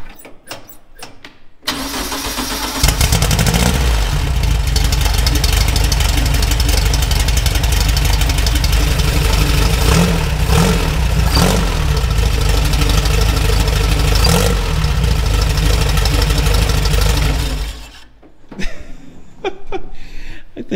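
A 1957 Porsche Speedster engine cranks and catches, then runs at a loud, steady idle with slight surges for about fifteen seconds before shutting off, leaving quiet background sounds.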